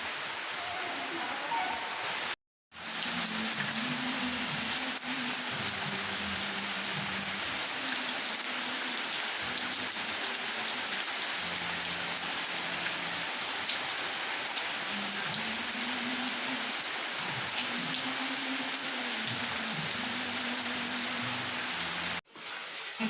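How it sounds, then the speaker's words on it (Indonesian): Steady rain hisses on a surface throughout, with a faint voice murmuring low underneath and two brief dropouts. "itu hujan ya beneran"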